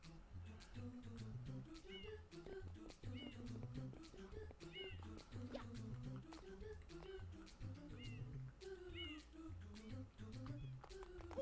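A cat meows again and again, close and clear, in short whining calls separated by brief pauses, while game sounds play faintly behind it.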